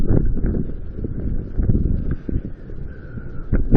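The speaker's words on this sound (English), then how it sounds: "Again, sorry about the wind." Gusty outdoor wind buffeting a microphone, a continuous low rumbling roar with rustling surges that swell and ease, loud and close throughout.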